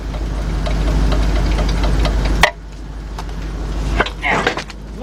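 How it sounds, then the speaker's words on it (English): A 1996 Ford F150 pickup truck engine idles nearby with a steady low rumble and faint ticking, while scattered clanks and handling noises from wheel bearing work sound over it and a brief loud knock breaks in midway. "you can hear the truck running over there"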